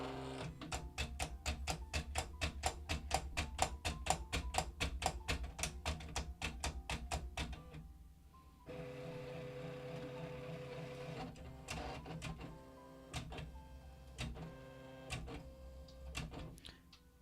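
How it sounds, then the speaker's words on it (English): A Silhouette cutting machine works through 110-pound cardstock, giving a fast run of regular mechanical ticks and whirring carriage strokes, then a brief lull and a steadier motor hum with scattered clicks, close and fairly loud. "how's the volume on the Silhouette on the cutting machine?"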